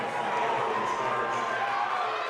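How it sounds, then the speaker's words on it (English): Duchesne fans in a high school 2A boys basketball game loudly protesting a referee's call, a dense, continuous roar of crowd voices filling the gym without pause. "Duchesne crowd letting the official hear about it."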